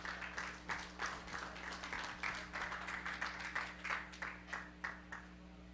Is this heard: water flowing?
no